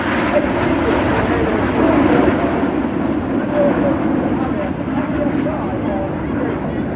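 Red Arrows jets trailing red and blue smoke roar past at the Bournemouth Air Festival, a loud, sustained broadband engine rush filling the whole stretch, with a commentator talking over the crowd-level din.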